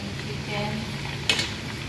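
Chicken frying in oil in a pan toward golden brown, a soft steady sizzle with a brief clink of utensil against the pan midway, no talk over it.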